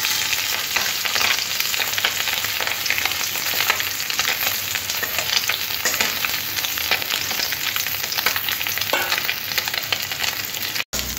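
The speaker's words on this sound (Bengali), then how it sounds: "এবার মাছটাকে ভাজতে হবে।" Small mourola fish frying in a pan of hot oil for a Bengali fish curry, a steady dense sizzle that holds loud and close throughout, with no talk, cutting off abruptly just before the end.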